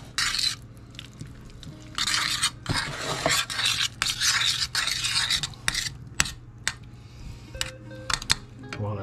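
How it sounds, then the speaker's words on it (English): Butter or Country Crock spread melts and gets stirred in a pan, with repeated scraping and rubbing strokes of a utensil against the metal surface in uneven bursts, close and clear, with a voice talking between strokes. "Or like I like to use some country crock, and slowly stir it all around."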